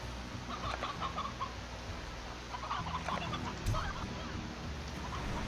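Chickens cluck repeatedly in the video game Slime Rancher, a busy run of farmyard calls over a steady noisy background, with one brief louder burst near the end.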